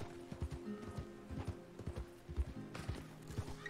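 Horse hooves clop in a steady rhythmic gait in the video game Red Dead Redemption 2, close and distinct, over a faint ambient background.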